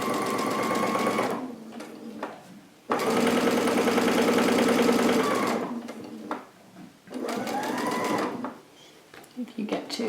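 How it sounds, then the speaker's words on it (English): A sewing machine fitted with a quilt binding foot stitches binding onto a placemat quilt in two long, steady whirring runs of rapid needle strokes, with a short start-stop burst between them and a quieter stutter at the end. "now I can proceed with my stitching"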